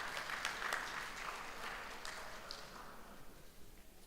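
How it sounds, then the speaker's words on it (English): Audience applause at an education department awards ceremony, a steady broadband clapping wash that stays fairly even throughout, moderately distant in a large hall. "A big round of applause for Ms. Mastorp."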